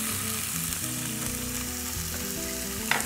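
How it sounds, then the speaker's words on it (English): Half an onion and minced garlic sizzle steadily in warmed oil in a pan, a continuous close frying hiss with a faint low tonal background and a small clink near the end. "We're gonna cook about half of an onion"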